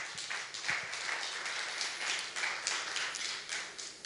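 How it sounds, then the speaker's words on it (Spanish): A church congregation claps steadily for several seconds in a dense, continuous patter of many hands, heard at a moderate distance with faint voices underneath. "Dale palmas a Dios."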